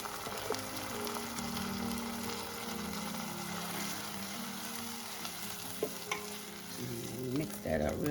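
Garlic and onions sizzle steadily in a pan for pizza sauce, with scraping stir strokes rising near the end and no voices.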